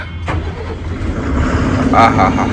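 The diesel engine of an eight-wheel lorry hauling onions turns over and catches, a loud close rumble that builds and settles into idle, with a brief voice at the start.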